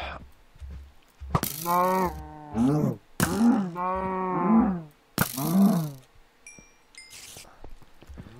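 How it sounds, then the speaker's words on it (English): Cow mooing in Minecraft (Feed The Beast): several long, loud, harmonic moos in close succession over about eight seconds, with brief gaps between them and a faint high chime near the end. "Hello, Mr. Moo Cow."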